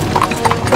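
Horse hooves clip-clop in a quick, close rhythm as a horse pulls a cart along a road, loud and clear with no talking.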